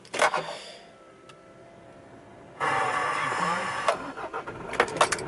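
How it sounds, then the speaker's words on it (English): A Kia Sorento 2.5 diesel is started from the driver's seat: quiet interior handling noises give way to a cranking catch and a steady diesel idle, with some clicks and rustles over it. "I've got the key, so let's start the engine."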